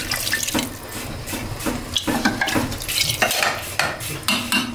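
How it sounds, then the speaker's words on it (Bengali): Water pours and splashes into a pot of spiced beef that has been browning, with irregular sloshing bursts and light metallic clinks of a utensil against the pot, close and without speech. "কষানো হয়ে গেছে, এখন পানি দিয়ে দিচ্ছি।"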